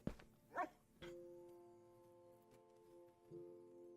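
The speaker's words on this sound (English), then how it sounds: "It's a wolf." Wolf in the Minecraft video game giving a few short barks and yips near the start, followed by a faint whimpering tone, with no talking.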